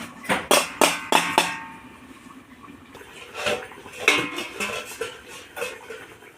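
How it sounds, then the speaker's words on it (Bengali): A lid lifted off a pot of rohu fish curry with okra and potato, a few sharp metallic clanks up front followed by softer clatter and bubbling, close by with no talk. "এবার ঢাকাটা উঠিয়ে দেবো।"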